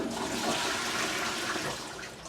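A hotel toilet flushes close by, a loud continuous rush of water that roars steadily throughout and eases slightly toward the end, with no voices over it.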